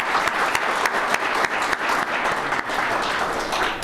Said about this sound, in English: One last round of applause for our widows and also for our WRA service leaders